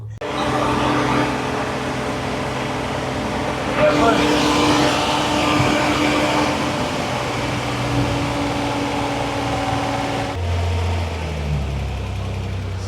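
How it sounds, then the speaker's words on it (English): Steady mechanical drone from a vacuum pump drawing fuel from the tank of a Datsun Z under restoration, running continuously at a constant loud level and shifting to a lower hum near the end. "I connect a hose directly to the fuel tank here and see if we can pull fuel with the vacuum pump"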